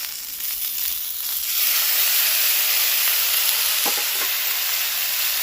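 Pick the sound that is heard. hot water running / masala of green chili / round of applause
masala of green chili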